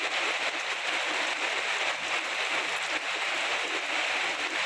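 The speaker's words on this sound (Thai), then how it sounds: "ดูฝนสาดเต็มเลยบัดนี้ เฉอะแฉะไปหมดเลย" Heavy rain pours steadily and loudly, a dense continuous hiss of water splashing and spattering over surfaces with no break throughout.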